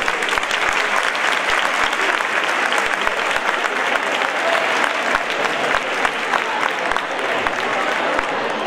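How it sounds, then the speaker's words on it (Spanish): Dense, loud applause fills a fashion show runway event, a steady wash of many hands clapping at once from a close crowd, sustained without a break. "Un fuerte aplauso, por favor"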